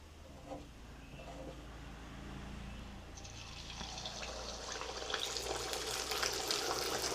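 Neyyappam batter is poured into hot oil, and after a quiet start a broad, bubbling sizzle swells and carries on to the end over a low background rumble.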